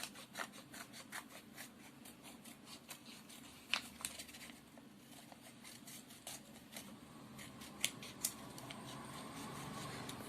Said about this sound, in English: Now we are going to take a piece of any color paper. We'll cut this into heart shape.